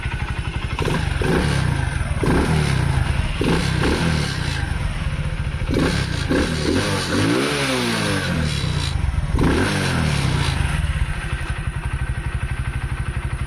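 A Mustang 125 motorcycle engine revs up briskly several times over a steady, loud idle, close by with mechanical clatter, no talking.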